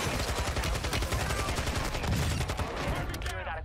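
Rapid gunfire in the video game Warzone 2 (Modern Warfare 2), a dense, continuous stream of shots at steady loudness that tails off near the end, with faint speech underneath.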